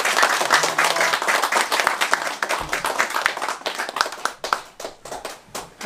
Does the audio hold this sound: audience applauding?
yes